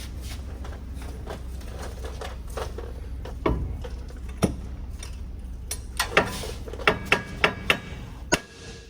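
A hammer strikes a 2007–2018 Chevy/GMC truck control arm in a run of sharp metallic smacks, sparse at first and then coming in quicker bursts, loud and close over a low steady hum.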